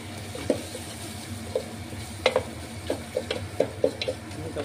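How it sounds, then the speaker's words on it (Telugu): Ingredients for rasam fry in a pan, giving a soft, steady sizzle broken by scattered small pops and ticks, close and moderately quiet with no talk. "ఇంకా బాగా వేగితే రసం అంత బాగా వస్తుంది."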